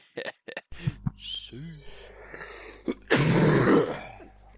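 Close, harsh coughing and throat-clearing right against the microphone, ending in a loud, distorted burst, mixed with brief voice sounds.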